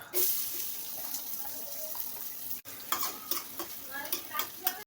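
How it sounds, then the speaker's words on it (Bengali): Onions frying in oil for a bean (shim) curry with rui fish, sizzling faintly under busy stirring and clattering, with a short break midway; no talking. "তেল দিয়ে দিয়েছি সিম রান্না করার জন্য, এবার পেঁয়াজ দিয়ে দেবো।"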